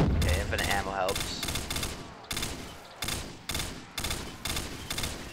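Rapid bursts of M4 rifle fire from a video game, loud and close, repeating in choppy volleys with short gaps and no break in the shooting.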